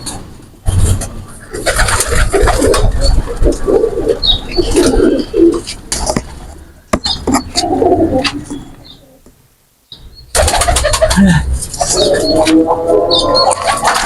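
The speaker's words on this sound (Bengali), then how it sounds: "তো এগুলো হলো ফ্লাইং শেডের কবুতর নাম।" Prince Kamagar pigeons coo repeatedly inside a flying shed, close and fairly loud, with rustling, thumps, wing flaps and brief gaps between bursts of activity.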